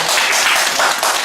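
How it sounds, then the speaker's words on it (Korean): An audience at a history lecture in Jecheon claps to welcome the speaker, a loud, dense burst of many hands filling the short moment with no talk over it. "여러분 큰 박수로 환영해 주십니다."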